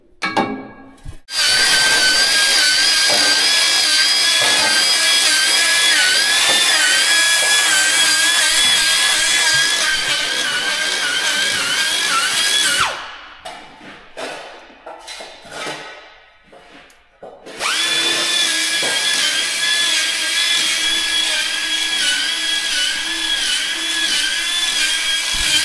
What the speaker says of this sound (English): I'm gonna take the grinder and clean some holes up